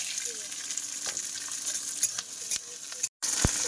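Green peas frying in oil in a wok, a steady close crackling sizzle with several scraping stirs of a spatula and one brief dropout near the end.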